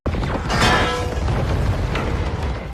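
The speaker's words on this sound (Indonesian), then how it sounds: "bom yang tadi ditanam oleh Hobbs akhirnya meledak dan menghancurkan seluruh ruangan lab" In an action film, a planted bomb goes off and destroys an entire lab, a sudden loud blast followed by a sustained heavy rumbling roar of debris that fills the whole short stretch.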